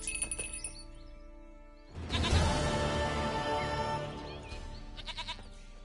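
A goat in The Witcher 3 video game lets out one loud, wavering bleat lasting about two seconds. Softer game sounds come before and after it.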